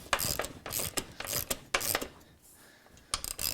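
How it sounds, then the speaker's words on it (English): Bicycle rear wheel rolled backwards, its freewheel ratchet clicking in quick rhythmic bursts with short pauses, close and crisp, recorded in a garage with no talking. "roll the wheel backwards, pulling the sock into the gap between the chain and the sprocket"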